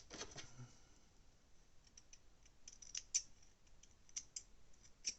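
Scissors trim hare and rabbit fur while tying a nymph fly, giving a few faint, sharp snips spaced irregularly over near-silence.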